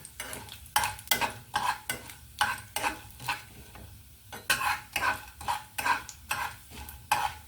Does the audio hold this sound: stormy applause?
no